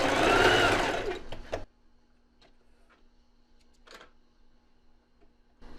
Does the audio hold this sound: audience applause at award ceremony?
no